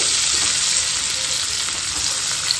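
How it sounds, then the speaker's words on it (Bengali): Chopped onion hisses and sizzles loudly in hot oil with cloves, bay leaf and star anise, a dense, continuous frying roar heard close up without speech. "এবারে এর মধ্যে একদম কেটে রাখা পেঁয়াজ দিয়ে দেবো"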